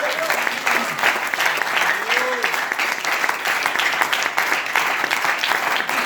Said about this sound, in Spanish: Pero fuerte se aplaude al Señor.